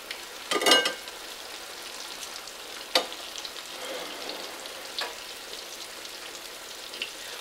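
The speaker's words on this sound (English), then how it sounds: "you're going to fry these for 7 to 8 minutes on each side" Pounded chicken cutlets fry in a cast iron pan with a soft, steady crackle and a few louder pops and spatters rising over a quiet background.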